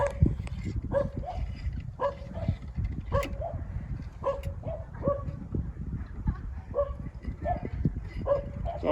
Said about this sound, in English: Sounds like the puppies are getting excited about something.